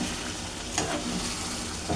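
Goat meat is stir-fried in a pot after its water has cooked off: a steady, close sizzle with scraping stirs and occasional louder knocks, and no talking.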